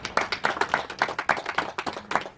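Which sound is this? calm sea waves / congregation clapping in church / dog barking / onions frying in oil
congregation clapping in church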